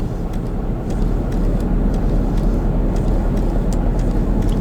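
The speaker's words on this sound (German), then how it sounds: "Na, ist es ein schöner Klang von dem Diesel." A diesel train engine in Train Sim World 2020 on a Northern Trans Pennine run, heard from the cab as a steady, loud low rumble with a dense droning roar and no break throughout.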